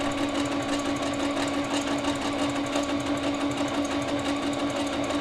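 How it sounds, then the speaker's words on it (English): A sewing machine sews a stretch stitch, similar to a zigzag, on knit fabric for baby leggings. Its motor whirs close up with a fast, steady mechanical chatter throughout, and nobody speaks. "This is a stretch stitch, but it is like a zigzag stitch."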